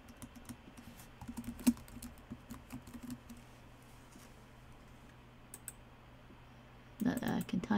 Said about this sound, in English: Not that I can type today.